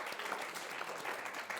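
Applause from a seated audience at a Korean Christian radio dating-advice lecture, a steady wash of clapping lasting under two seconds, moderately quiet and without speech over it.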